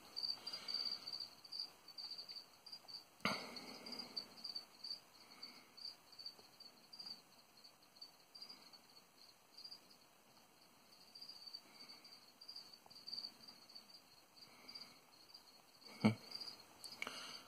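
A feeder cricket chirps in a faint, continuous high trill, with a couple of sharp knocks cutting through the quiet room.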